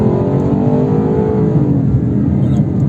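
Lexus LC 500 naturally aspirated V8 revs loud and close, a steady deep roar with rising harmonics building through the whole stretch, no talk over it.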